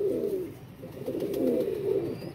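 A bought pigeon, a breeder bird that yields young in fine colours, gives soft throaty coos in a continuous rolling pattern, close and fairly loud, with no voices over it.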